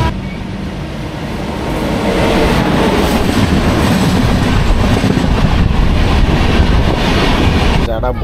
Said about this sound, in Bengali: এখন এই মুহূর্তে আমাদের সঙ্গে দেখা হয়ে যাবে 12792 দানাপুর থেকে সিকান্দ্রাবাদগামী সিকান্দ্রাবাদ সুপারফাস্ট এক্সপ্রেসের সাথে